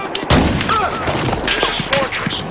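Shotgun blasts and other gunfire in the Battlefield 4 video game, several sharp bursts scattered over a short span amid game effects, with brief voice sounds.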